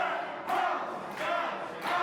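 Wrestling arena crowd cheering in swelling bursts, three loud surges of massed voices roughly every two-thirds of a second, fairly distant and reverberant.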